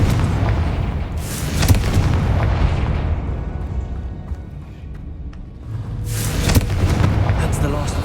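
Booming fire-spell explosions of Confringo in Hogwarts Legacy, two loud blasts with rumbling tails, one early and one near the end, separated by a quieter stretch of low rumble with speech.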